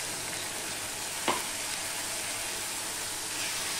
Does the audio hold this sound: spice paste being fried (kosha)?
yes